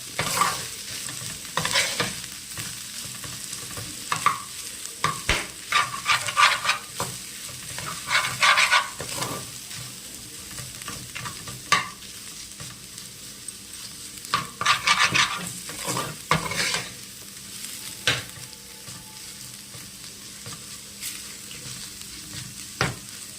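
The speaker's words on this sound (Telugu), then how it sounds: "అడుగంటకుండా కలుపుతూ ఉండాలి పోపు వేసిన తర్వాత" A tempered curry of thelagapindi is stirred steadily in a frying pan, with repeated scraping strokes over a continuous sizzle that rises and falls for the whole stretch, fairly close and with no talking.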